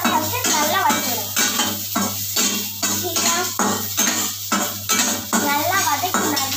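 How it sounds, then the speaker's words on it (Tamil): Green chillies sauté on low gas in a pan for tomato chutney, with a faint sizzle and repeated clinks and scrapes of a spoon against the pan, under continuous talking. "கேஸ் கம்மியாக வச்சு நல்லா வதக்கி விடுங்க"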